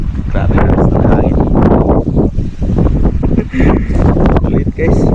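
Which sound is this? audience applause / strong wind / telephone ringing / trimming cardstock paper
strong wind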